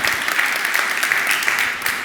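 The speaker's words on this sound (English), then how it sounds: "give a big round of applause" Audience at a cybersecurity AI conference breaks into steady applause after a presentation, a dense, even wash of clapping filling the room with no talk over it.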